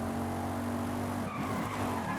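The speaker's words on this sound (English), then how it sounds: "I managed to get this nicest drift" Car drifting in the Forza Horizon 5 racing game near the final corners of a race, with a sustained loud tire squeal and skid over steady engine roar throughout, with no talking.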